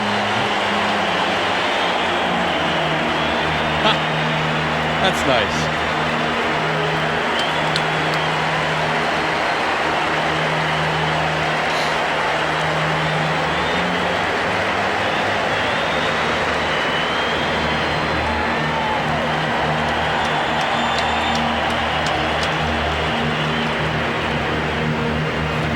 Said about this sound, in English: listen to the cheer for the guy that used to boo